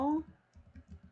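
Soft, close clicks of a computer keyboard come in a quick run of several keystrokes, following a brief voice at the start.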